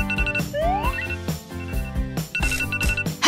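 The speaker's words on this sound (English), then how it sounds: "Okay, let's shut off this alarm" Phone alarm ringing as a wake-up tone, repeated bright electronic ringtone bursts with rising chirps over a busy musical background, loud and close, with no speech.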